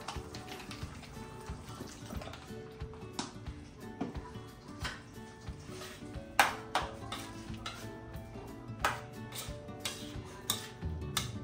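Ground beef sizzles quietly in a pan after soy sauce is added, with irregular clicks and scrapes of stirring against the pan and no talking.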